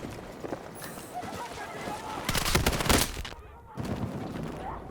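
MP7 gunfire in the Battlefield 6 video game, with short bursts of rapid shots cracking amid battlefield noise and a player's voice talking over the action.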